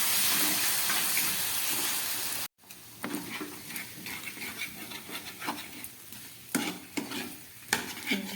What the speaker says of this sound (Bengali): তো এই টমেটো পেস্ট দেওয়ার পরে খুব ভালোভাবে আমি কষিয়ে নিলাম